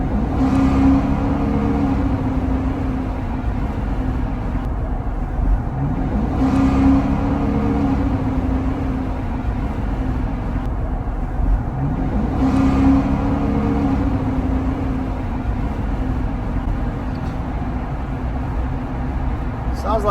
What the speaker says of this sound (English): Sounds like a race car, but you know, only, just like I said, only when you step on it.